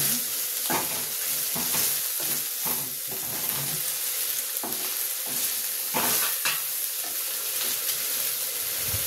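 Onions and green chillies fry in a pan, giving a soft continuous sizzle broken by repeated scraping stirs at an uneven pace, with no talking.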